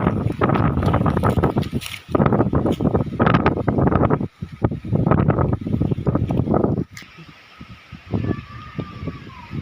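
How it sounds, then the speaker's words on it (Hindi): A strong windstorm tearing through a garden and mango orchard roars in loud, gusting waves, buffeting the microphone with rumbling blasts that ease briefly between surges. "इतनी तेज़ हवा चली है"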